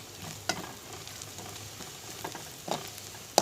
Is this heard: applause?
no